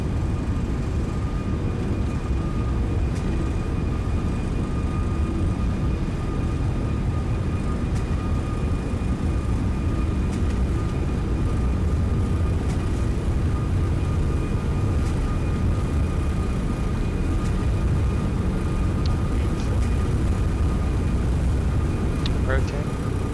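An Airbus A340-600 accelerates down the runway on its takeoff roll in the X-Plane 11 flight simulator, a loud, steady engine roar with a faint tonal whine throughout, under a pilot calling out checks.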